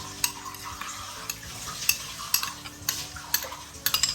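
Onions sizzle in a hot pan while a utensil stirs them, with soft continuous frying and a series of sharp scraping clicks against the pan, close and without talk.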